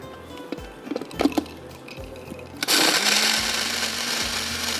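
A kitchen blender grinding almonds, pistachios and dates starts up partway through with a loud, steady whirring roar, preceded by a few light clicks and taps.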